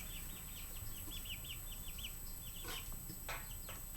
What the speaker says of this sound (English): These chickens are not afraid of nothing.